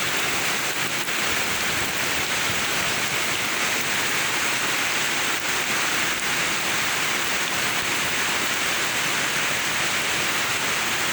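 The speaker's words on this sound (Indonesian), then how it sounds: "Yang benar-benar deras sebelumnya ya, ini tinggal gerimisnya aja." Drizzling rain falls over flooded fish ponds after a heavy downpour, making a dense, even hiss that holds at the same level throughout, with no voices.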